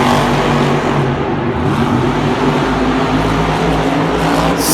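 A monster truck engine at a Monster Jam stadium event in Miami roars at a loud, sustained, heavy drone, holding steady throughout with a dense rumbling low end and no clear pauses.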